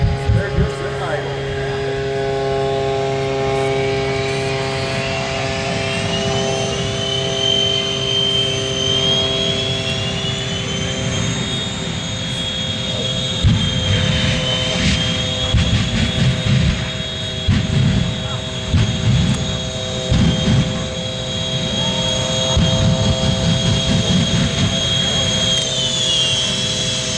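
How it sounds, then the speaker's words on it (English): Three jet engines idle on a jet-powered truck at an airshow flight line, a loud steady roar and whine with rising tones that runs the whole time while people talk nearby. "Listen to those 3 jet engines."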